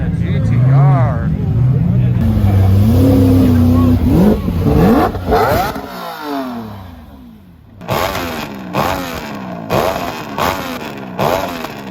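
A $2 million sports car, among cars like a Ferrari F40 and GTR, roars past at a Los Angeles street car meet, with loud revving, gear-change swoops and fading passes mixed with crowd shouting and talk.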